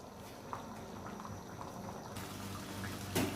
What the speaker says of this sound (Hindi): इसको तकरीबन 5 उबाले आ लें तो उसके बाद जो है ना फिर इसका दम देंगे